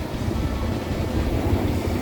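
A sailboat motors along under engine power on a windless day, a low, continuous rumbling drone with no other sounds over it.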